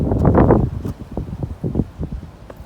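Gusty wind buffets the microphone outdoors beside a 1963 Ford Galaxie 500 XL convertible, a steady rumbling roar with rustling swells that rises loud at first and keeps blowing throughout.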